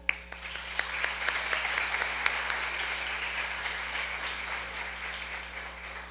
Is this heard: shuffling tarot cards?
no